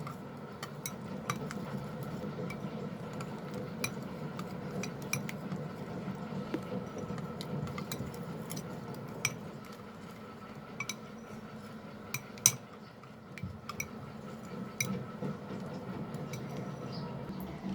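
Mixed vegetable mixture with cashew powder is stirred in a kadhai, a spoon clinking and scraping against the metal in irregular taps over a low, steady cooking hum, moderately quiet and close, no speech.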